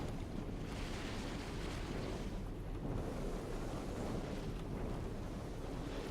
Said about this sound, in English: Sounds pretty windy.